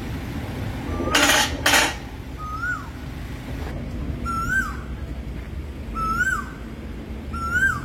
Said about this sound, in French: Ça par contre ce oiseau là je l'aime bien, sa sirène hein.